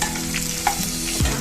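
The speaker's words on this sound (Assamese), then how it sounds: "পিঁয়াজখিনি ৰঙা হৈ যোৱালৈকে ভাজিম" Onions frying in oil with panch phoron spices for a Mising-style fish curry, a steady close sizzle with a brief stirring scrape near the end.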